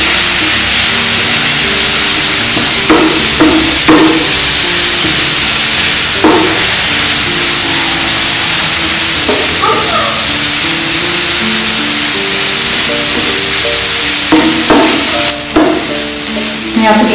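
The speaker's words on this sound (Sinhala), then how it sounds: "දැන් ඉස්සන් යන්තමට බැලීගෙන යනවා." Prawns fry loudly in a pan with a steady, dense sizzle and occasional stirring knocks, continuous and close, with no voice over it.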